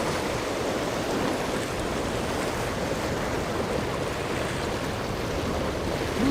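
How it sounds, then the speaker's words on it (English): Rough water tosses a boat about, a continuous loud rush and wash of waves against the hull with wind noise mixed in and no clear breaks. "Dude, look how rough the water is. It's like tossing the boat around"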